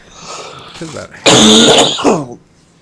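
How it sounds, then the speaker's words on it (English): Throat clearing and a forceful cough from a lingering cough, up close, one long rough burst followed by a shorter one. "that cough that won't go away"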